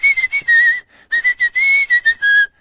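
Someone whistles a tune alone in clear, bright notes, some short and choppy and others held longer, with brief pauses between phrases.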